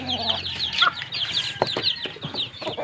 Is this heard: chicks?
yes